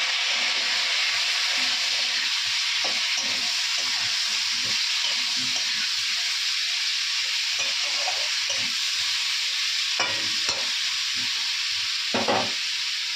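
Onions and vegetables fry steadily in a pan in a home kitchen, a continuous close sizzle with occasional stirring scrapes and clatters, especially near the end; no one speaks.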